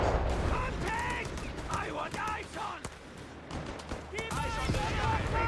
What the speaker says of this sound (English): Machine gun sending up here.